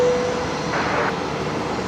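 An aircraft takes off from runway 01 left at Brisbane Airport, its engines a steady, distant roar sustained across the moment without voices.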